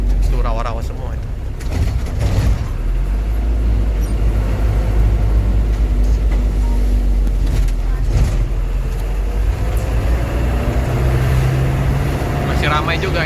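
A car drives along a busy toll road past swampland, giving a steady, loud low rumble of engine and tyre noise with passing traffic throughout and no clear breaks.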